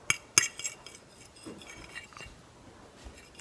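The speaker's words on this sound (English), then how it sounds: "now you take your fork and you like kind of mix it together a little bit" A fork clinks sharply twice against a dish, then scrapes and taps softly while mixing pancit canton noodles, close and quiet, with no talking.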